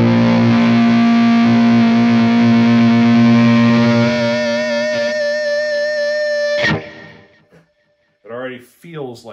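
Loud sustained electric guitar feedback driven by an exciter module, a distorted drone with ringing overtones that swells and shifts, then cuts off abruptly, followed by brief faint noises.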